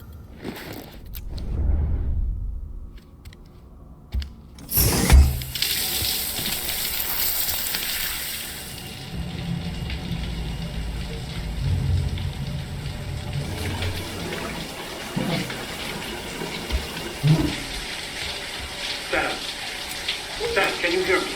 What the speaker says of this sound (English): Let's have a shower.